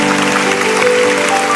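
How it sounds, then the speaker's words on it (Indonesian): A church congregation claps during a sermon, steady loud applause mixed with sustained musical tones beneath it. "Kasih tepuk tangan untuk Tuhan Yesus"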